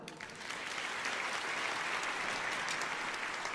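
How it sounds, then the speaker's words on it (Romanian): Audience applause at a big-band jazz lesson, a dense steady clapping from a crowd that swells quickly and holds at an even level throughout, with no talking over it. "Aplauze!"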